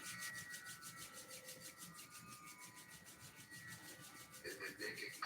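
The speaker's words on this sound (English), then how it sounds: "Rub the palms briskly." Palms rub briskly together in a quiet yoga session, giving a steady, soft, rhythmic swishing friction that continues throughout and grows slightly louder at the end.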